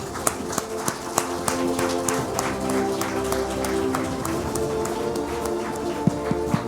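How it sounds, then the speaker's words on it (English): An audience at the India Economic Forum 2022 awards gives a standing ovation: steady, soft applause from a crowd fills the hall, with a few sharper taps and claps standing out near the start and end. "We should all stand and clap for him."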